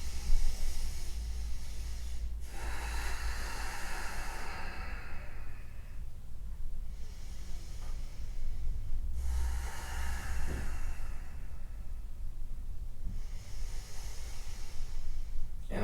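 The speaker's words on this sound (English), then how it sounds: "We'll take 3 nice deep breaths." Slow, deep breaths taken during a vinyasa yoga flow, each long airy inhale and exhale rising and fading in a steady rhythm, close and soft against a low steady background rumble.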